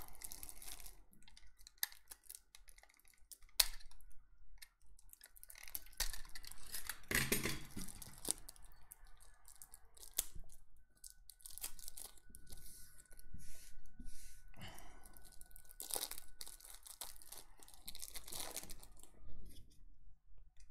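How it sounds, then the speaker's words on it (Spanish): Marvel Champions card packs for the Venom expansion are handled and unwrapped on a table, with faint, scattered crinkles, taps and rustles of plastic wrap and card spread over about twenty seconds, quiet and close, with no talk. "Y vamos a abrir, si os parece, las cartas."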